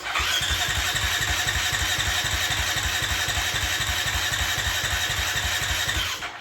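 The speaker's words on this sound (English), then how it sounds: "I'm gonna spin the engine over with the kill switch on." A motorcycle engine, long unused, cranks over steadily with the kill switch on, without catching, a fast even chug lasting several seconds before cutting off.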